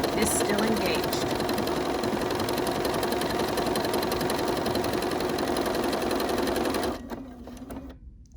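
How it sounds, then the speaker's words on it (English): A sewing machine runs a decorative stitch across a stitched postcard, a loud, continuous, rapid mechanical whir for about seven seconds before it stops and the room falls nearly quiet. "And now we're going to stitch it."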